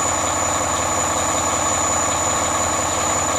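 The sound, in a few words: 2010 Volvo big rig diesel engine idling after cold start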